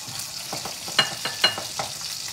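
Leftover corn reheating in a hot pan sizzles and splatters, with sharp popping spits and a couple of louder crackles over a steady frying hiss.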